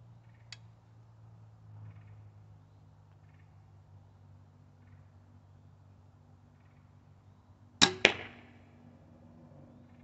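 A single Wildgame Innovations XR250B recurve crossbow shot fired outdoors: a sharp, loud snap with a quick double crack, then a short fading twang, standing alone over a faint low hum after a quiet stretch.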